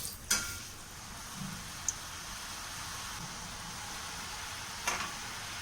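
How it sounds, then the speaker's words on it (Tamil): Rice murukku dough fries in hot oil, a faint, even sizzling hiss throughout with a few sharp ticks and clinks, no voices present. "இப்படி வச்சு புழிஞ்சிட்டு அப்படியே எண்ணெயில் போட்டுருங்க"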